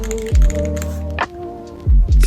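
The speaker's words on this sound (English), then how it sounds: "L shift is rattly." Keys on a GamaKay K87 mechanical keyboard with a rattly left shift key, struck in a few loud, close clacks with hollow rattling tails, separated by short quiet gaps and no speech.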